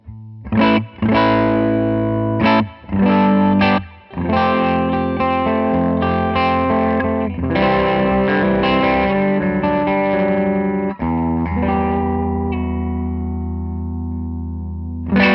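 Electric guitar through a Victory Duchess clean tube amp on the edge of breakup, chords ringing out loudly with brief gaps early on, then sustained strummed passages with a touch of reverb.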